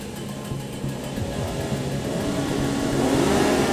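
GP Light racing motorcycles roar off the start at a Brazilian road-racing round in Cascavel, engines revving and swelling steadily louder as the pack accelerates away, a continuous layered whine.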